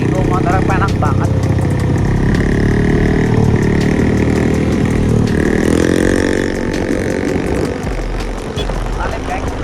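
A smoky motorcycle engine running loud and close, a buzzing drone that rises and falls with throttle changes throughout, while a rider talks over it.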